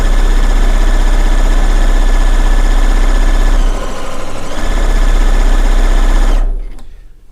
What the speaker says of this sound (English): Let's get another strip sewn down.